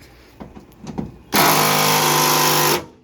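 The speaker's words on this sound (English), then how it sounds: "I'm going to try to hit them with the impact." Impact wrench hammering on the leaf spring hanger bolts of a 1997 Ford Ranger, a short burst of loud, rapid rattling after a few faint clicks and knocks, near and alone.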